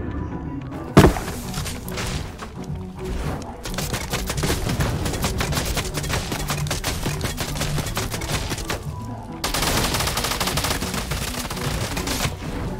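Sustained SMG fire rattles through a video game in long, dense, rapid bursts, loud and close, opening with a sharp single blast and briefly pausing before another stretch of automatic fire.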